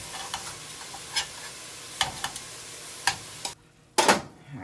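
Andouille and Oktoberfest sausage cook in a pot, with a soft sizzle under intermittent scraping and stirring clatters of a utensil against the pot, followed by a brief quiet gap and a final loud scrape.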